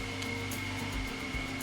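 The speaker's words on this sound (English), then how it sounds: "Maybe you can hear the blender in the background," A kitchen blender runs in the background during lunch preparation, giving a faint, steady motor whir with a thin whine that continues without a break.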